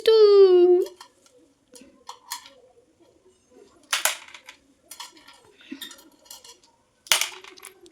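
A spoon clinks against a child's dish in a few sharp, scattered taps at home, after a loud opening squeal, with soft handling noises between.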